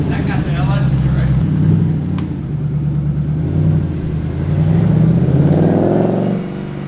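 An LS V8 engine in a car rumbles loudly and close, rising in revs near the end, while people talk over the engine noise.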